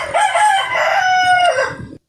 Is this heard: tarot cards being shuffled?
no